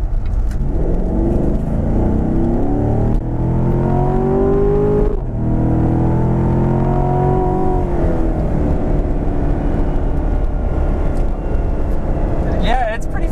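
A 2015 Corvette C7 Stingray with a 455-horsepower engine and 8-speed automatic pulls hard along a back road, its engine note rising steadily and loudly throughout, heard from inside the cabin with someone talking over it.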